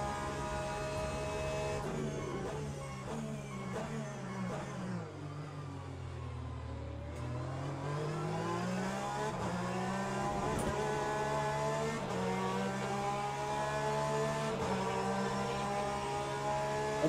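A Ferrari race car engine roars at high revs in Le Mans Ultimate, its pitch climbing through gear changes, dipping once, then holding a loud, sustained whine down the straight with no talk.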